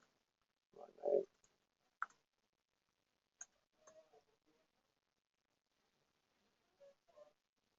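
Quiet, scattered computer mouse clicks during an online search, a few sharp taps spread over several seconds, with a faint voice murmuring near the start.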